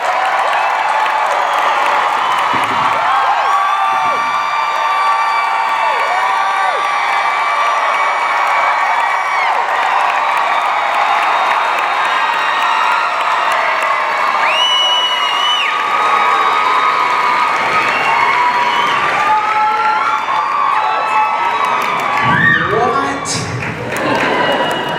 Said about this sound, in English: What a crowd, wow, what a welcome.